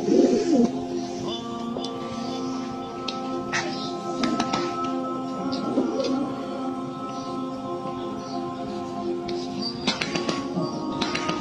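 Pigeons at the Kaaba in Mecca coo softly and repeatedly over a steady murmur of background noise, with occasional brief sharper sounds.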